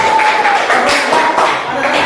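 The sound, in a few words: class clapping hands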